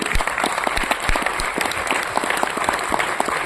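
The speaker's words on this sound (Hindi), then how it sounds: "उन माता पिता के लिए एक बार जोरदार तालियां आप जरूर करेंगे।" Loud applause rises from an audience at a stage-hosted workshop in Ranchi, honouring parents; many hands clap in a dense, close burst that holds steady throughout, with no talk over it.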